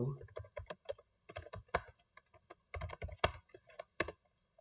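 A command is typed on a computer keyboard in a quiet room, with close, crisp key clicks in irregular bursts and brief pauses between them.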